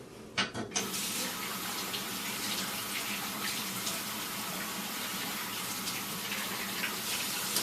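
A tap runs steadily into a sink for wetting the face before a shave, a constant close splashing gush that barely changes, with a couple of knocks at the start and no speech.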